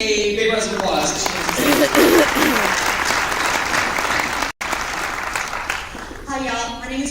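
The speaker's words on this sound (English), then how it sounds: "help me give Christy a big round of applause" An audience at a P90X fitness event in Dallas applauds a woman coming up to speak, loud, close clapping with cheering voices rising over it and a brief dropout partway through.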